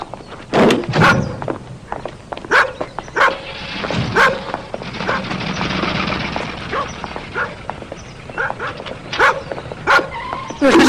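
A dog barks and yips in short bursts near a doorway, mixed with footsteps and movement, several sharp calls spread across the stretch.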